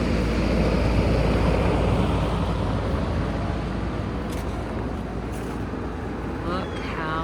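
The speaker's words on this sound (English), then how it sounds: "It's loud, the AC's back here" An outdoor air conditioner unit in a Houston garden drones loudly and steadily as a broadband roar, close by and continuous.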